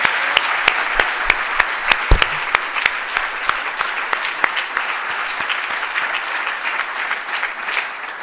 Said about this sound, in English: So could we give another applause to Barbara, Bob, and Steve?